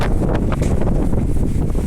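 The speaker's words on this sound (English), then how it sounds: "Very windy." Strong wind buffets the microphone with a steady, roaring rumble throughout, loud and close, with no voices, beside a bus route through bushland near Two Rocks, Western Australia.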